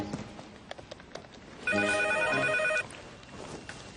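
A telephone rings once, a loud sustained electronic bell tone lasting about a second, in an English-conversation lesson set at a cafe.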